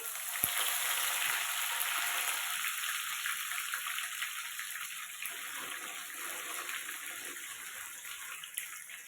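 Dried red chillies and curry leaves hiss and sizzle in hot oil, a steady, close crackling that eases slightly partway through.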